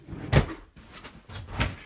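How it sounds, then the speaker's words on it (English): Drawers or cupboard doors opened and shut in a quick search, two sharp wooden knocks with a softer slide between them, close by with no talk. "It could be in one of these drawers."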